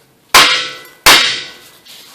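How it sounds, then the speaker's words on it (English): Two loud metallic hammer strikes hit the steering knuckle of a 1996-2000 Honda Civic, each a sharp ringing clang about 0.7 seconds apart that decays slowly. The blows are close, with no voices. "Give this a couple whacks with a hammer and kind of loosen this up."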